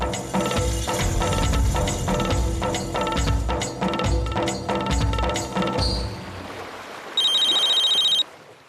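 A telephone rings with a bright, steady electronic tone for about a second near the end, following loud dramatic background music that fades out in a Hindi TV serial scene.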